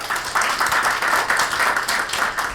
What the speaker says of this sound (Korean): 한 분 한 분 큰 박수로 맞이해 주시기 바랍니다